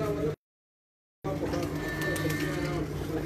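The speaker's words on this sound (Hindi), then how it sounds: "आ गया कबूतर" Soft pigeon coos murmur over a steady, noisy background, with a brief dropout of silence near the start.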